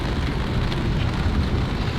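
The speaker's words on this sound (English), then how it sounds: "if you hear that noise, it's rain" Rain falling around an RV at a campsite during a storm, a steady close hiss of drops pattering on surfaces with no talk over it.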